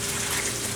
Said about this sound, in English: and just pour it into the strainer